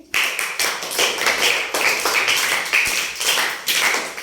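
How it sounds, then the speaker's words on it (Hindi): A class of schoolchildren clapping for themselves in rhythmic bursts, the whole room striking hands together in a loud, repeated beat pattern with no talking over it. "ताली हो गया अपने लिए।"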